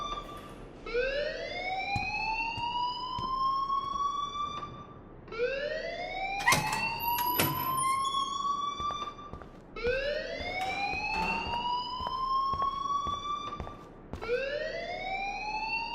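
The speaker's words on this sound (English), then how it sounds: "please turn off that alarm since that's your job." A school alarm in the video game Life Is Strange wails in three long rising sweeps, each climbing and then holding a steady high tone, with a brief gap between them, loud and close.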